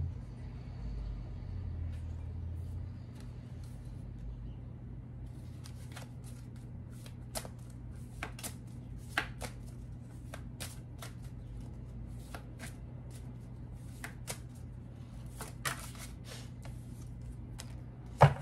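Cards being shuffled repeatedly in short crisp riffles, close by, over a steady low engine-like hum.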